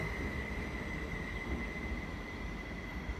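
A steady, dense rumble of a train idling at a platform in St. Gallen station, Switzerland, with a constant high whine running throughout and no speech.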